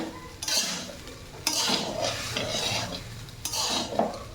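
Food is stirred and mixed in a pot for a festive home meal, with repeated scraping strokes of a spoon against the pot over a soft sizzle, close and fairly loud.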